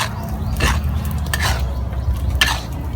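Cooked clams and oysters are stirred in a pot, giving a few scraping utensil strokes against the metal over a low steady background hum.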